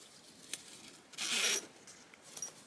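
A zipper on a handmade sewn fabric pouch is pulled in one short, bright rasp, with small clicks and rustles of the fabric around it and no talking.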